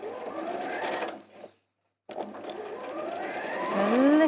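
A sewing machine stitches bias binding onto a quilted beach hut wall hanging, giving a close, steady mechanical whir that stops briefly before starting up again and running on.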